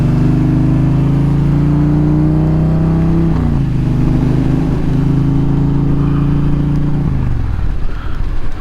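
A 2022 Indian Challenger Elite motorcycle ridden in the rain: a loud, close, steady engine drone that shifts pitch twice as the throttle changes, with a slight drop near the end.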